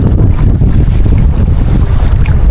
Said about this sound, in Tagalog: Mahangin na naman.